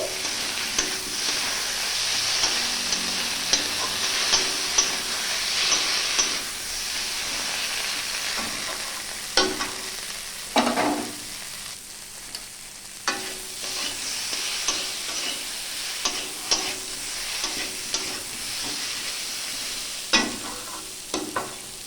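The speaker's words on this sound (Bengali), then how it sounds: "সমস্ত মশলা দিয়ে আমি ভালো করে ভেজে নিচ্ছি।" Spices sizzle steadily in a hot pan while a spatula scrapes and stirs them in repeated clinks and scrapes, close and fairly loud, with no talk. The dish is a spicy curry of pointed gourd and shrimp with fish.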